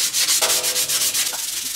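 Sandpaper rubs Bondo filler on a high power rocket body in quick, rhythmic back-and-forth strokes, a close, steady scratching with no talk.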